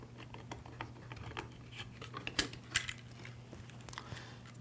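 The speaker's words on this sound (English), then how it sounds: "To remove this head, I push the spool in, twist it, and then the spool will come out of the head." Plastic spool being pushed in, twisted and pulled out of a string trimmer bump head, heard as a run of small close clicks and plastic taps with a couple of sharper knocks near the middle over a steady low hum.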